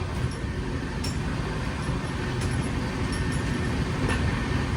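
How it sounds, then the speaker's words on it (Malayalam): Inside the Garib Rath Express running at 130 km/h between Ranchi and New Delhi, a loud continuous rumble and rattle of the carriage on the rails holds steady throughout, with faint clicks and no talk. "ട്രെയിൻ ഇപ്പോൾ 130 km/h സ്പീഡിലാണ് പോകുന്നത്."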